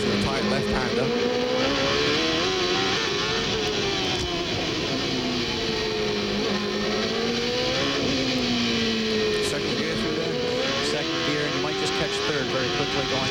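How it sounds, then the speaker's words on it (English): Onboard view of a 1995 IndyCar race car at the Surfers Paradise street circuit in Australia, its engine turning around 14,000 RPM in a loud, continuous high-pitched scream that rises and falls through gear changes and tight corners. "take a ride on board with Paul Tracy and listen to his engine as we circulate around this track here"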